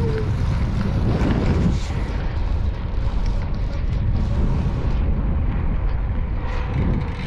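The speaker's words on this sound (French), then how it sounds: "c'est les pneus qui font ce bruit là sur les pavés" Gravel bicycle tyres rolling over cobblestones during a gravel race departing Girona, a steady loud broadband rumble and rattle with wind buffeting throughout, no voices.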